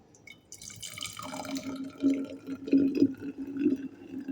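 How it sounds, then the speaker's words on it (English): Water drips and trickles beside a glass bottle soaking in water, a few close, faint splashy drops in a quiet room. "I soaked this glass bottle in water"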